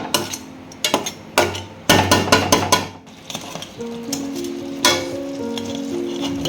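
Crab and masala fry together in a pan for pepper crab, with a close, steady sizzle broken by sharp scraping and clanking strokes of a spoon stirring against the metal, louder at first and then settling into softer bubbling hiss.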